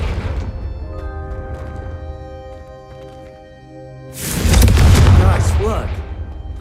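A Confringo blast spell in the Hogwarts Legacy video game: a calm spoken voice with a soft musical background, then one sudden loud fiery whoosh and boom that roars for a couple of seconds before fading.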